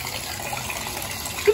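Water rushes steadily into a tub in a continuous, close gush, with a faint voice in the background.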